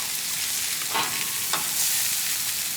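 Bologna slices fry on a hot griddle with a steady, close sizzle, broken by a couple of soft scraping turns of a spatula as pieces are flipped.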